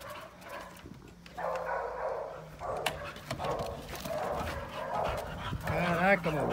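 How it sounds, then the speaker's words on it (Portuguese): A four-month-old chocolate puppy, very hyper, barks and whimpers in short bursts, close by, mixed in with people talking. "esse cachorro aí é doideira, virado no 600"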